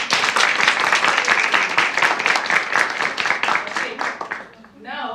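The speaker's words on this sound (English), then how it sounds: "clap for her." An audience claps in brisk, rapid applause for several seconds, then fades out as a voice begins speaking.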